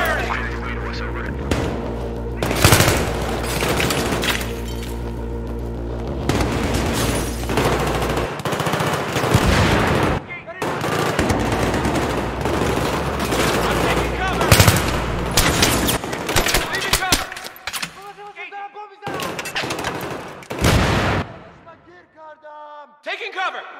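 Heavy video game gunfire roars in dense, sustained automatic bursts with a few short breaks, a voice calling out between volleys near the end.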